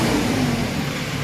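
An Antonio Carraro TR7600 tractor engine runs at high revs near 2300 RPM, a steady loud drone holding briefly without voices.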